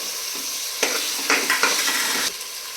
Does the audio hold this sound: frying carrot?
yes